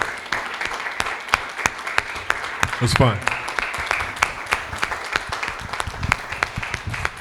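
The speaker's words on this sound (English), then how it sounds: "Let's give a round of applause" Audience applause at a multichannel music workshop comes as sparse, spaced claps rather than a dense roar, with a voice speaking briefly over them.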